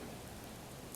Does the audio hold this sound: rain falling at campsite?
yes